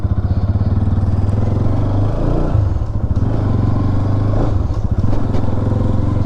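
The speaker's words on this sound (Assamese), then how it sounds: "মই পিন্টুৰ বাইকখন চলাই আছোঁ" A motorbike being ridden on a local road, its engine thrumming in a steady, loud, close drone with a pulsing low rumble and brief shifts in revs; no talk.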